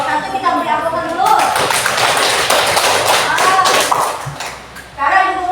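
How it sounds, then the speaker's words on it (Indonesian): Classroom applause for a student group after their presentation: a dense wash of hand claps from many students, fairly close and loud, running for several seconds with voices mixed in before it tapers off, then picks up briefly again. "Kita beri aplaus dulu."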